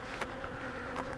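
Honey bees hum inside a beehive infested with small hive beetle larvae, a steady close buzzing drone with a few brief louder passes near the start and end.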